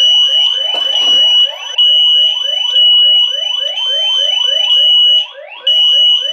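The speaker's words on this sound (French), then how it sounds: "alarme de fumée déclenchée par le sous-sol, donc détecteur de fumée numéro 3 dans le sous-sol" A home smoke detector set off in a basement by a bit of burning paper, sounding a loud, piercing, rapidly pulsing electronic alarm that repeats steadily with brief pauses, with no talking.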